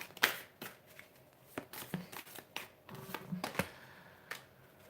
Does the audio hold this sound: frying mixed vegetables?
no